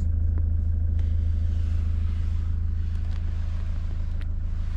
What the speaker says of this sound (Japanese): 今車内でエンジンがかかった状態で録画をしていますが、アイドリングの音は気になりますでしょうか。